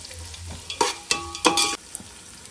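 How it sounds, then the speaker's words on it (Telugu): Omelette biryani being stirred and mixed in a hot pan: a few sharp scraping, clanking strokes of a spoon against the pan over a soft sizzle, close and loud, with quieter sizzling between strokes. "అంతా ఒకసారి కలుపుకోవాలండి."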